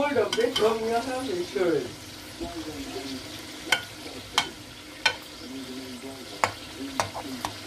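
A soft sizzle of garlic and ginger frying in a pan, with a metal spoon stirring and occasional sharp clinks against the pan, fairly quiet and close.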